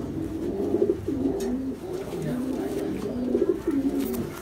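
High flyer pigeons coo steadily in a close, continuous series of low rolling calls, overlapping and repeating throughout without any talk.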